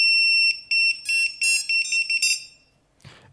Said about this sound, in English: As I plug the Lipo in, you will hear it beep. It's the initialization tone for my for the race flight.